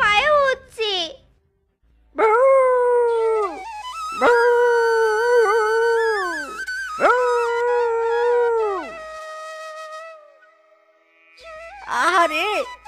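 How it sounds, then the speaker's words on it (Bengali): A cartoon dog howls for food in long, drawn-out wailing howls. Several loud, close cries with breaks between them are followed by short yips. "কুকুরটা খাবারের জন্য কিভাবে চিৎকার করছে!"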